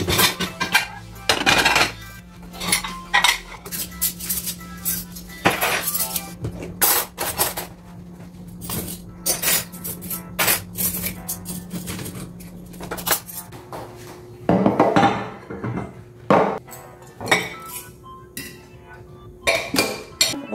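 Dishes and cutlery clink as a plate and utensils are set down at home: scattered sharp ceramic and metal clatters, some close and loud, spread across a quiet room.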